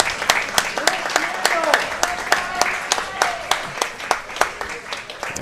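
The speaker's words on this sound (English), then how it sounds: "Teams from sheet A coming off the ice to a round of applause from all the parents and spectators in the warm room." Parents and spectators in the warm room of a junior curling bonspiel clap as teams come off the ice, scattered, distinct claps with uneven spacing while a commentator talks over them.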